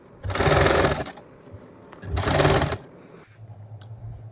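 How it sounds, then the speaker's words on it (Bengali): A sewing machine stitches the edges of a jute tea coaster in two short, loud bursts of rapid mechanical chatter about a second each, separated by a quiet pause, then a soft low hum. "মেশিনে সেলাই করে চারিপাশটা আমি বসিয়ে দিলাম"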